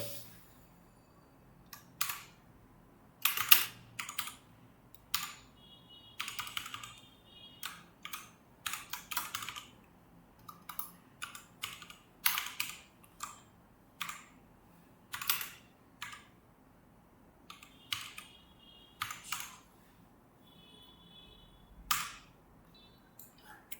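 Bursts of quick clicking keystrokes on a computer keyboard while someone types Python code, uneven runs of taps with short pauses between, close and fairly quiet, no talking.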